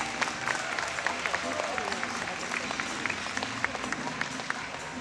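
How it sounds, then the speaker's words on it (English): Scattered, fairly faint clapping from an outdoor horse-show crowd at BreyerFest, greeting the carriage drivers at a pleasure driving demonstration, with individual claps standing out over a low background murmur. "let's give these drivers a round of applause for their hard work getting everything prepared for today"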